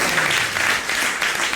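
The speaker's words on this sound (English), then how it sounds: "let's give a round of applause to Mahaguna." An audience at a 1995 Vyasa Puja celebration in Atlanta claps together, a dense, steady patter of applause filling the room throughout.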